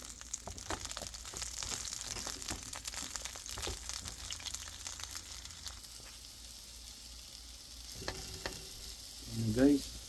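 Food frying in olive oil, a steady soft sizzle close by with scattered crackles, stirring scrapes and light crinkling, ending in a short louder clatter.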